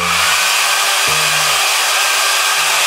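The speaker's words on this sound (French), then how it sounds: "utilisons l'ouverture pour souffler avec le sèche-cheveux" A hair dryer blowing into the opening of a bottle gives a loud, steady whooshing roar with a droning hum beneath it, continuous from start to finish with no voices.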